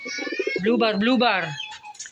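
Pigeons coo close by in a short burst of low, warbling calls, with a few faint chirps after them and no talking.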